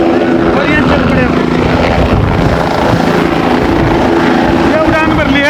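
A helicopter lifts off at a crowded public event in Nuh, its loud continuous rotor roar and whine dominating, with voices and crowd noise mixed beneath.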